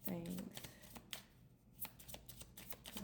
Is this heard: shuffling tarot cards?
yes